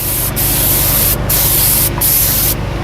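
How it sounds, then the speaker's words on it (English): Four short trigger-pull bursts of spray of a detailing product onto an Audi S5, each a close, hissing mist separated by brief pauses. "As far as the overspray with this product, very minimal, to be honest."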